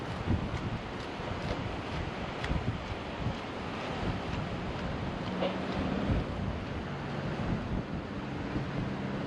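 Strong gusting wind on a river along the Great Loop route near Fulton, New York, heard from a boat as a constant loud roar of buffeting microphone noise with no voices.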